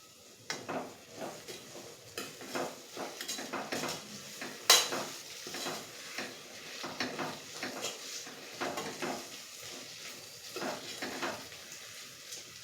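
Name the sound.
mixing spices in a pan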